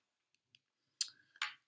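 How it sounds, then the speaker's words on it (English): Tarot cards being shuffled by hand, with a couple of faint light ticks followed by two louder bursts of riffling and card slaps, close by and heard alone without talking. "I am shuffling these cards."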